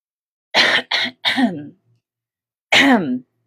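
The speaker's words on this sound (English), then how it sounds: "that was a pathetic cough." Three quick coughs in a row, then a pause and one more cough, close and fairly loud against silence.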